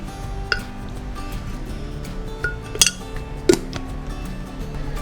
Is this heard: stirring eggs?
yes